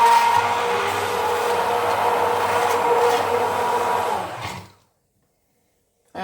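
A Silvercrest SSMS 600 hand blender whirs steadily as it runs in plain water to clean itself, a loud continuous motor hum and churning for about four and a half seconds before cutting off into silence.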